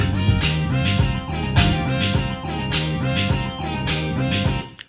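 Sampled two-beat drum-and-synth loop repeats from a Kaoss Pad, dense and loud, with punchy kick and snare hits cycling steadily.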